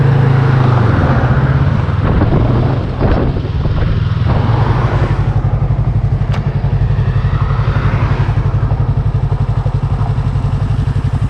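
A motorcycle rolls slowly along the road edge, its engine putting out a steady low, close throb with a rapid pulsing rhythm that holds loud and unbroken from start to finish with no voices.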